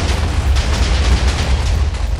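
A Minecraft explosion roars as a dense, loud, steady rumble filling the whole moment, with no voices over it.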